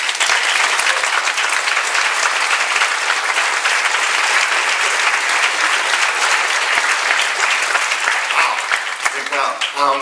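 Loud, sustained audience applause welcoming keynote speaker Danny Kennedy at the 2013 Energy Fair, dense steady clapping filling the hall for about ten seconds before tapering slightly at the end.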